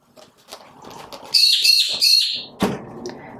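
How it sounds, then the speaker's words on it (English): Bird chirping in bright, sharp bursts in the middle, followed by a single hard knock like a small bird striking a window, with faint background rustle and no talking. "you silly bird, just flew into the window. Crash. Yeah, it's being chased by another bird."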